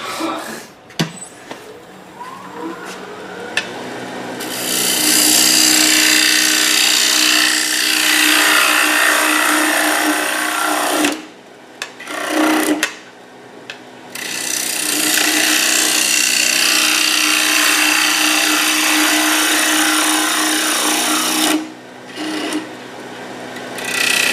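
A wooden winged bowl turning on a lathe, cut well above center with a 1/2-inch gouge, gives a loud, steady, rasping scrape that runs in long stretches with a few brief pauses; no voices are heard.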